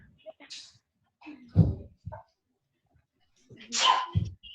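Someone speaks in short bursts, then a single sharp sneeze bursts out near the end, close and fairly loud.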